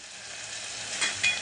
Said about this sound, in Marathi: आता आपण आलं लसूणची पेस्ट टाकून देऊया